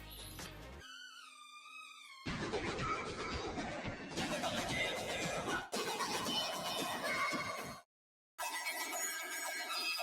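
A synth tone starts clean, then turns into harsh, distorted, noisy blasts in several loud bursts with a brief gap of silence near the end.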